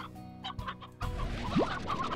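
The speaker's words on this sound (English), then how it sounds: "how many chickens are there?" Chickens clucking in the Slime Rancher video game, several birds with short repeated clucks and a rising squawk, fairly close and loud with no talk over them.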